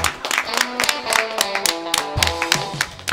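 Several people clapping together in a Korean sitcom scene, sharp irregular hand claps close by, loud and brisk, with no talking over them.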